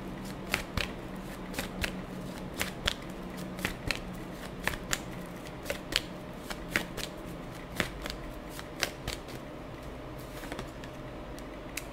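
Tarot cards shuffled close up in a quiet room, a long run of soft riffling bursts and crisp snaps repeating at a steady, unhurried pace.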